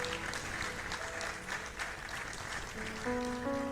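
A church congregation claps steadily during a sermon. The applause is moderately loud and continuous, and sustained musical tones enter underneath toward the end.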